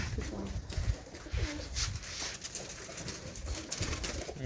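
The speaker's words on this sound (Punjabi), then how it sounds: "ਬਹੁਤ ਹੀ ਸੋਹਣੇ ਸੋਹਣੇ ਸ਼ਾਨਦਾਰ ਕਬੂਤਰ ਨੇ" Malwai pigeons kept in England coo in low, soft bursts, several birds overlapping nearby amid steady background noise, with no voices.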